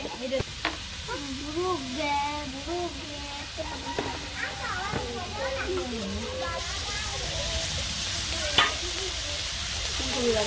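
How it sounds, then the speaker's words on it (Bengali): Potatoes sizzle and fry in hot oil while being stirred in a pan, a steady close hiss with scraping stirs throughout and a person talking over the cooking. "প্রথমে আলু দিয়ে দিলাম, আলুটা একটু ভেজে নিয়ে"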